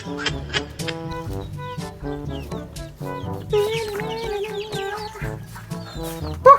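Chickens cluck in short, repeated bursts, several birds close by with overlapping calls and a sharp louder squawk at the end.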